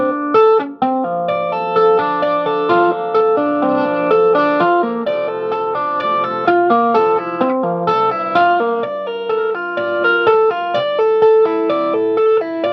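An electric guitar plays a continuous run of clear, melodic notes through the clean channel of an EVH 5150 III amplifier with a shimmering modulation effect, steady and fairly loud, with no talking.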